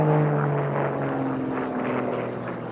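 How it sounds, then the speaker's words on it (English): A Sport Class race airplane passes at low altitude during the STIHL National Championship Air Races, its propeller engine droning steadily with a shifting buzzy pitch, fairly close and loud, with no voices. "the airplane is just seems to be very happy and smooth and just flying along"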